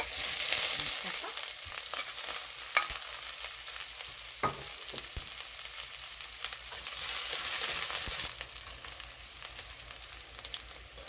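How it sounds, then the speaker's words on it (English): Fenugreek, curry leaf, onion and pepper fry in hot oil, a continuous hissing sizzle with scattered taps and scrapes from tossing, fairly close and unaccompanied by talk. "You toss this into the hot oil until it starts getting light brown to the edges."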